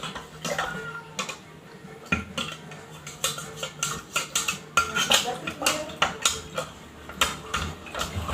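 A spoon stirring a flour solution inside a glass aquarium, with repeated quick clinking taps against the glass in a steady, slightly uneven rhythm, heard close and fairly loud, and nobody talking.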